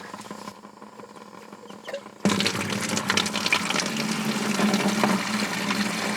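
Water from an off-grid duck pool rushes loudly and steadily into a rain barrel system after the plug is pulled, a sudden gushing onset following quieter dripping and handling sounds.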